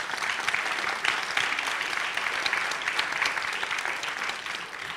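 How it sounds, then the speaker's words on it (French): An audience at a health-performance summer university event in Rennes fills the room with steady applause, a continuous, moderately loud patter of many hands clapping, with no voices over it. "ça va nous mettre en jambe avec quelques applaudissements"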